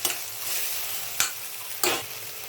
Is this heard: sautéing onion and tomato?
yes